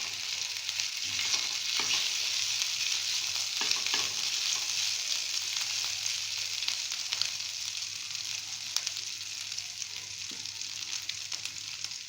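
Ginger paste for samosa filling fries in oil with a steady, even sizzle and occasional faint stirring scrapes, close and unbroken, with no voices.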